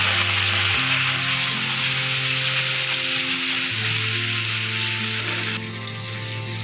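Pointed gourd (potol) peels fry in a pan with turmeric and salt, giving a steady, close hiss of sizzling oil that continues throughout and eases slightly at the end.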